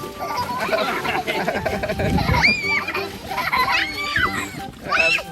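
Water splashing and sloshing during Songkran water play, with repeated wet splashes and pouring, mixed with excited children's voices, squeals and chatter close by.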